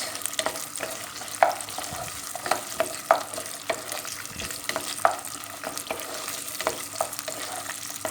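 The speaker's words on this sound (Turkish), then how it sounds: "Nohutla birlikte salçamızı güzelce kavuruyoruz." Tomato paste and cooked chickpeas fry in a pan for a nettle stew, a steady sizzle under repeated spoon scrapes and light clinks at an irregular rhythm, close and clear with no speech.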